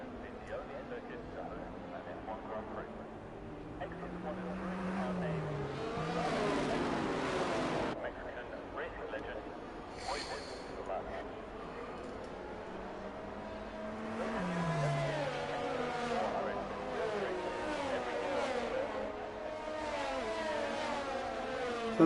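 Race cars in a racing video game circuit at Mexico behind a safety car, with a steady engine drone and whirring that swells and fades as cars pass, under nearly continuous talk.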